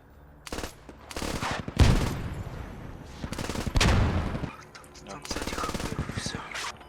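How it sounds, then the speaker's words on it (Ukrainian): A machine gun fires in bursts in the military video game Squad, loud and close, with rapid rattling volleys that come in several separate strings mixed with other gunfire. "Дуже-дуже прикольний кулемет."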